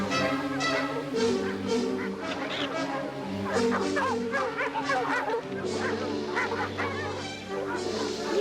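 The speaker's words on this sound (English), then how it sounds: "They probably heard the dogs" Several dogs bark in a continuous, overlapping chorus, with yips and honking, goose-like calls mixed in from a 1962 Lassie episode, loud and busy throughout with no pause.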